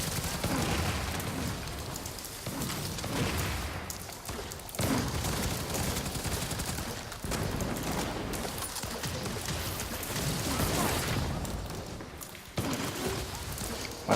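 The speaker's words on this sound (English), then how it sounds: "My little turret's doing some work there." An automated turret firing in the sci-fi shooter Firefall, with repeated bursts of shots and thumping impacts amid a busy, loud combat soundscape that continues throughout.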